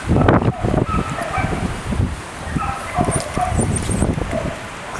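A dog up for adoption at a shelter gives a series of short barks and soft whimpers, fairly close, with some wind noise and a voice talking over parts of it.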